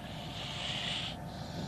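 A gopher snake held by the back of the head hisses in a steady, breathy rush lasting about a second, fairly close, over faint background noise in a grassland setting.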